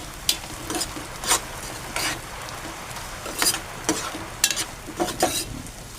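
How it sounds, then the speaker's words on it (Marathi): Chopped onion frying in a pan sizzles steadily while a spatula scrapes and stirs in repeated bursts about once a second, close and clear with no speech. "चांगली परतून घ्यायची तांबूस होईपर्यंत हा कांदा."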